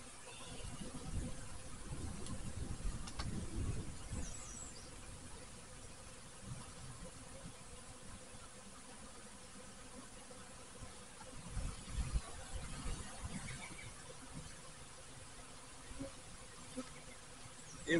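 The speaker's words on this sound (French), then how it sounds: "On fait attention de ne pas écraser aucune abeille." A faint, steady buzz of honeybees hovering around a hive as a nucleus colony is installed, with soft handling noises and low background rumble.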